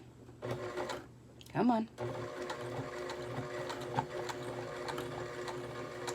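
An old sewing machine stitches two layers of mesh fabric together with a steady mechanical whir and rhythmic clatter, pausing briefly near the start while a voice speaks over it, then running continuously up close.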